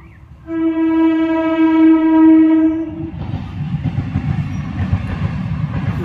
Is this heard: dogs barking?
no